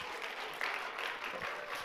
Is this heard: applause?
yes